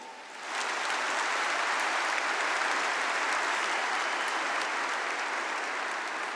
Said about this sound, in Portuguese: Aplauda essas mulheres.